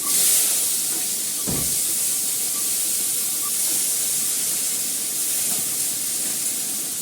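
Pumpkin pieces drop into hot mustard oil tempered with nigella seeds and set off a continuous hiss, with a sharp burst of sizzle early on and a steady frying crackle afterwards.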